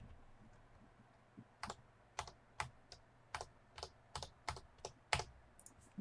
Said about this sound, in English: I just hit the F1 key on the keyboard